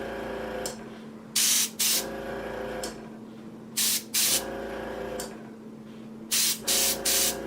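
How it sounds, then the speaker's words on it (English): Spray gun opened up to a wider pattern for a heavier, denser paint coat, firing several short loud hissing bursts over a steady background hum, with no talking. "We're going to open up the gun a little bit more. I'm going to give it a little bigger pattern here."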